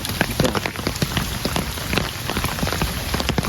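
Steady, dense rain pours and patters on surfaces throughout, loud and continuous, with no voices.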